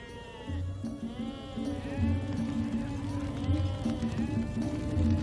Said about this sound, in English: gathering outside the walls of the Holy Temple were herds of sheep and